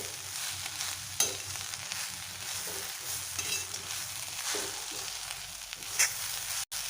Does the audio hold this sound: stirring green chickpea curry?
yes